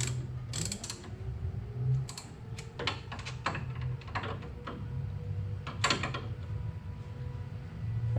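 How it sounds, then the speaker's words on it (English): Bolts on a 1979 Camaro's C7 Corvette spindle and hub upgrade are tightened with a 10mm Allen driver, giving irregular close ratcheting clicks and metallic ticks in short clusters over a faint low hum. "10mm Allen on. And I'll just take my time and slowly tighten them down"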